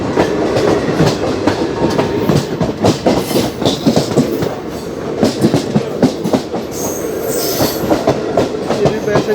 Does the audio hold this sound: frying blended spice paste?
no